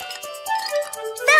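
A small bell on a sheep in a children's cartoon jingles in light, rapid tinkling pulses, close and bright, ending with a louder shimmering ring.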